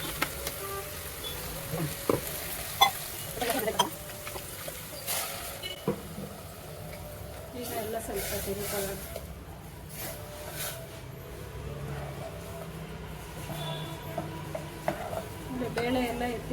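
Ground chili masala being stirred and fried in a pan with browned onions for sambar, a steady soft sizzle under repeated scraping and clinking strokes of a spoon against the pot.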